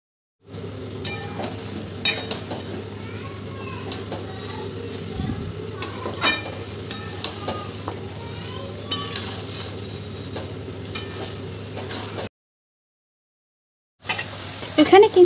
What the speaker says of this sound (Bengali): আঁচ কমিয়ে কমিয়ে এদিক থেকে ওদিক নাড়তে থাকবো